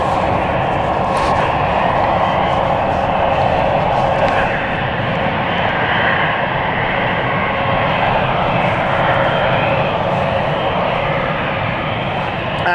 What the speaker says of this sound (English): the aircraft that we were focusing on earlier, which was head on to us, that is now ready to go as well. Let's watch this taxi out.